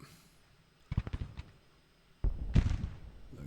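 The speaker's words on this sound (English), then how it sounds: "Everybody's firing or reloading." Cannon and musket fire in a Civil War battle video game, distant and faint, with a quick cluster of sharp shots followed by a louder rumbling volley.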